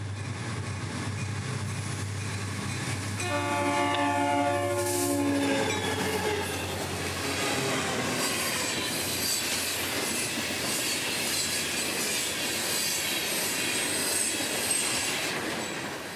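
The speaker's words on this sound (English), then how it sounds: "my last train of the day, number 292, out of Medley's Mine in Miami to Fort Pierce, led by an SD40-2 and another Champ GE" Freight train 292 led by an SD40-2 and a GE locomotive passing near Fort Pierce, South Florida: a long rumbling roll of wagons with wheel squeal and a rising horn-like tone early on, then steady clattering as cars go by.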